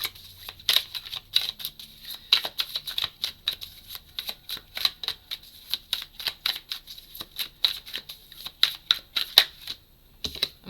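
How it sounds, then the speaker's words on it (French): Tarot cards are shuffled continuously by hand, a rapid run of close, crisp flicks and riffles that lasts throughout, with a few short pauses and no talking. "Je vais brasser les cartes"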